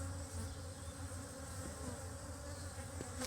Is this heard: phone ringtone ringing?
no